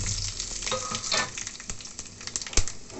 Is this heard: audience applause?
no